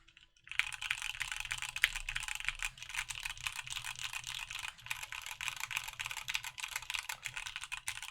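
Brisk typing on a compact ergonomic mechanical keyboard built with a PP plate, a dense stream of close, crisp key clacks following a brief quiet start, with no talking.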